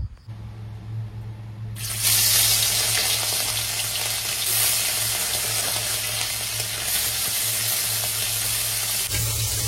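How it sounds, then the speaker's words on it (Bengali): Fish rubbed with salt and turmeric hits hot oil and bursts into a loud, sustained sizzle after a quieter opening, crackling steadily for several seconds before cutting off. "তো দেখো মাছটাকে ভেজে নিচ্ছি।"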